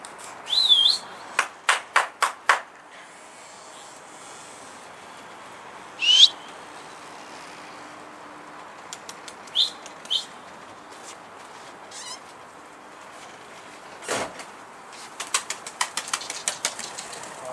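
Bursts of rapid pigeon wing flapping come and go amid quiet outdoor air, with a few thin whistles and chirps scattered between them.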